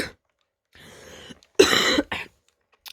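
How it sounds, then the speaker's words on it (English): A coughing fit close to the microphone: a drawn-out hacking breath followed by two sharp, loud coughs, then a brief quiet pause. "first coughing fit of the video."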